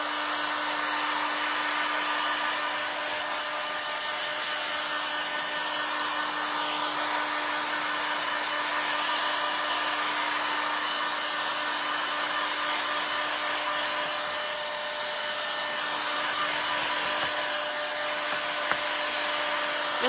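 A heat tool blows with a continuous, steady whirring hum as it heat-sets Mod Podge on fabric Valentine's wall pocket decor, holding a constant tone for the whole stretch with no talking.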